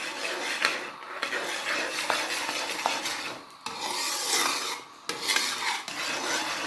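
Walnut halwa is roasted and stirred in a pan over a high flame, with a steady scraping and rasping of a spoon against the pan bottom in continuous strokes and brief pauses, with no talk.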